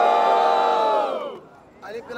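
A rap battle audience at an outdoor freestyle event cheers and whoops loudly, a dense roar of voices that swells, dips briefly, then picks back up with fresh shouts near the end.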